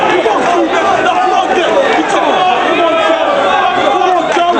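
A wrestling arena crowd at ROH Final Battle roars in a loud, dense, continuous wash of cheering and chanting that fills the whole stretch.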